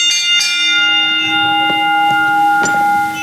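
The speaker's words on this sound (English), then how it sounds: "Ring the bell." Ringside bell at an indoor wrestling show struck several times in quick succession, each loud clang leaving a long sustained metallic ring that hangs over faint crowd noise.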